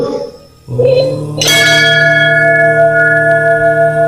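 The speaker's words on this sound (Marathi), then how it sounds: "आपण सदैवपासनं मंदिरामध्ये गेल्यानंतर आपण घंटा वाजवतो" A temple bell is struck after a few soft handling sounds, then rings out loud and close, its bright metallic tone sustaining with a slow, pulsing shimmer.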